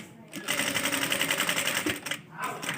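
A sewing machine runs steadily while stitching along the edge of a dress neckline, a fast, even mechanical whir that starts and stops abruptly, close and clear.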